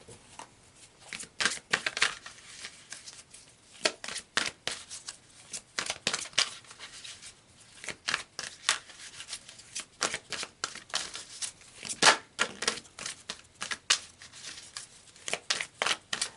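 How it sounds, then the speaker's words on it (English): Tarot cards shuffled and drawn from a deck, a long run of quick papery riffles and snaps coming in irregular bursts, close and fairly loud, with no voice. "let's pull some more cards"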